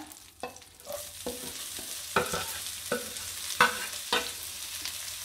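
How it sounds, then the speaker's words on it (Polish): Chopped onion sizzling in melted hot butter in a pan, a steady close frying hiss broken by repeated stirring scrapes and clicks. "Następnie na rozgrzane masło wrzucamy cebulę."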